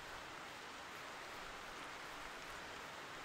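Rain falls across the landscape in theHunter Classic, a soft, even hiss of drops that stays faint and keeps going with no break.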